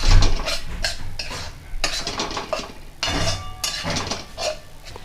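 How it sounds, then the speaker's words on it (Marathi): Pasta is stirred in a pan with a utensil, producing close scraping strokes and metallic clinks in uneven bursts over a light sizzle, with no talking. "अशा प्रकारे छान हलवून घ्या।"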